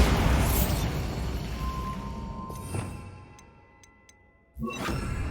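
The Bombarda explosion spell in Hogwarts Legacy, a loud blast and rumble that fades over several seconds, a few small crackles and pings, then a second sharp burst near the end with no voices.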